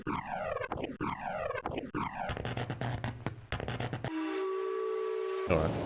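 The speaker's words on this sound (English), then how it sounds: "As well as the train." Train whistle from the Myst computer game, several rising whistle blasts repeating rhythmically, then a sustained steady whistle tone with a faint voice at the very end.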